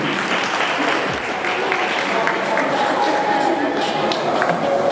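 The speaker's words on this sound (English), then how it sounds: "let's give her a round of applause" Audience at a live music show claps steadily, a dense and fairly loud round of applause with talking mixed in underneath.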